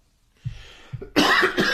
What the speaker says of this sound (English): You got me coughing.